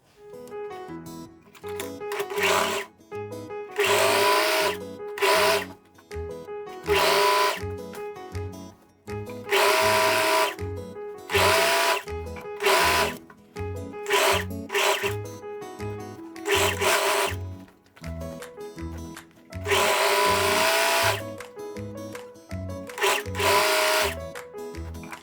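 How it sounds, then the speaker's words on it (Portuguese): A sewing machine runs in repeated bursts along the crotch seam of a viscose-linen jumpsuit, its rapid stitching starting and stopping over and over, close and loud, with no talking. "vou iniciar a minha costura aqui de uma barra e vou até chegar lá na outra"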